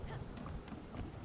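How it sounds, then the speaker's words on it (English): Thunder rumbles during a lightning storm in the Spiritfarer video game, a low, steady, fairly quiet roll mixed with rain-like hiss that lasts the whole short moment. "Lightning storm!"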